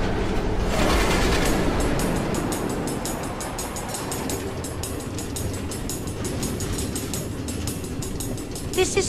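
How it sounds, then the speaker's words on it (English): Automated minecart train from Minecraft Story Mode rolling along tracks through the Nether, a steady loud rumble with rapid clickety-clack rail rhythm and metallic clatter running throughout. "Automated train tracks running all through the Nether"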